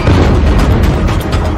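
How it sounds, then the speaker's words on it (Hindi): Heavy shelling in Gaza, with dense, continuous rumbling blasts and booms merging into a loud, sustained low roar with no talk. "गाजा में बेहिसाब बारूद बरस रहा है।"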